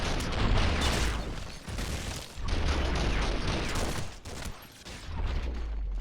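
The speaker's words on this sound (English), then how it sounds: "You realize we're being shot at, right?" Gunfire rattles in the PC video game The Matrix: Path of Neo, dense bursts of shots and booms rolling in waves with brief lulls between them, loud and continuous with no talk.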